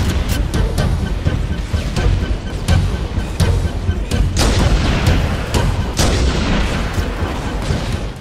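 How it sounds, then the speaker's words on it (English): Rocket launcher fire and blasts in Halo Combat Evolved during a fight with the Flood, with loud repeated explosive booms and gunfire over constant battle noise, the hits spaced irregularly throughout. "I think I just sculled him with the rocket launcher."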